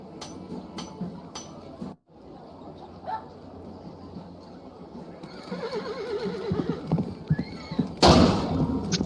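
A horse in the jousting VR game Jousting VR on Quest 2 whinnies several times over a busy medieval tournament backdrop, with hoof clip-clops and clattering building toward a loud burst near the end.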